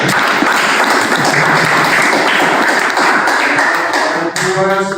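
Dense, loud applause from a school audience at an Al Akhyar School event in Makassar, steady patter of many hands filling the whole stretch and tapering slightly near the end.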